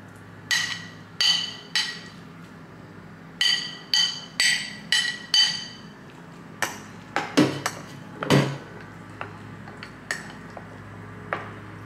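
Yogurt mixed into grated beetroot in a bowl with a spoon, heard as a series of sharp, close clinks and taps of metal against the dish in irregular bursts, with no talking.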